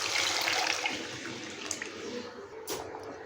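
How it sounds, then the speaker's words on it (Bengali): Coconut milk pours into a simmering prawn and potato curry in a pan, a steady liquid rush and sizzling hiss that fills the short stretch at even loudness. "এবার নারকেল দুধটাকে দিয়ে দেবো।"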